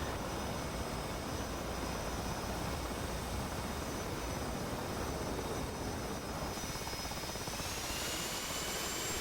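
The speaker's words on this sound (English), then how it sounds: "Right now, we're just throttling up the engines." Jet engines on a carrier deck in the DCS World flight simulator throttling up: a loud, steady, broadband roar that holds constant throughout, with a high whine rising near the end, and no talk.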